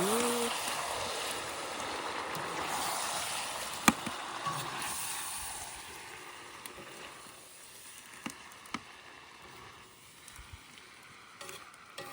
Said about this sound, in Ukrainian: Який звук, як вона шкварчить.